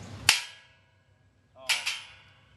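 An aluminum hog trap door slams shut twice, each a loud, sharp metallic bang with a ringing tail; the first hit is short and the second lands about 1.4 seconds later as a double clang, with quiet between.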